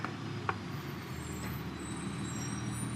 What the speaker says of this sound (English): Right in time for the boys to get off the bus.